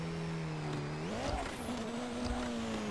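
A car races in the video game Nash Racing, its engine droning steadily, then climbing in pitch as it revs and shifts, close and continuous, with faint tire noise underneath and no talking.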